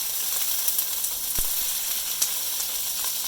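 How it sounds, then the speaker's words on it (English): Onions and peppers fry in a preheated pan, giving a steady, close hiss of sizzling oil throughout with a few small pops and crackles and no talking. "Now into this pan that we've heated up, I'm going to dump in those onions and peppers."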